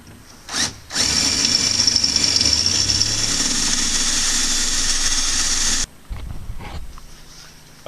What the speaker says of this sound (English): the object here is to drill through the head of the rivet, but not drill through the panel